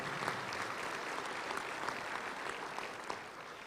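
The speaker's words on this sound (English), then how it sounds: "Please, let's give her a great round of applause" Audience at a Little Rock Touchdown Club luncheon applauding steadily for a few seconds, a dense even patter of many hands clapping at moderate distance.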